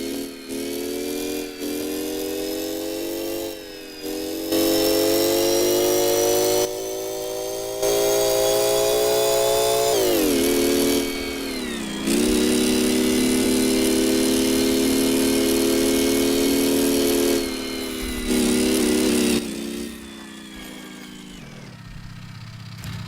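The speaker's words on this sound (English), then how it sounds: "Got a jump scare from this bike's engine." A sports bike engine in the game Gearblocks runs loudly and continuously, revving up and down in steady stages with a buzzing, droning tone and brief dips between throttle changes.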